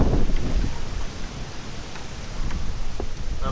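Steady, strong wind roaring across the microphone, a continuous rushing noise with slight surges, no voices.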